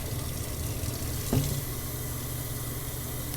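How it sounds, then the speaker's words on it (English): Cold water running from a tap into a tea container at a smoothie bar sink, a steady rushing hiss throughout with a brief clunk midway. "you're going to bring it over to the sink, and you're going to fill it up about halfway with cold water"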